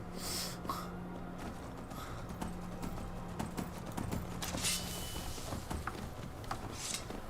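Video game horse hooves clip-clop in a steady, brisk rhythm on a hard road in Skyrim, with occasional snorts and breathy sounds mixed in.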